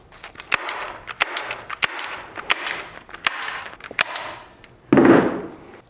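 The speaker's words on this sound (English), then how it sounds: "We just simply have to staple this here." A staple gun fastening insulation onto a ductwork fitting, firing about eight sharp, evenly spaced snaps at close range with faint rustling between them, and ending in a louder thud-like burst.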